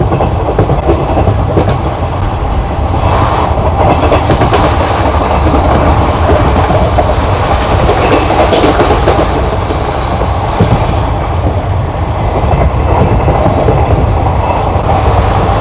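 The West Coast Superfast Express sleeper train, running from Chennai Central to Mangaluru Central, makes a steady loud rumble heard from inside a carriage, with rhythmic clickety-clack of wheels over rail joints throughout and no voices.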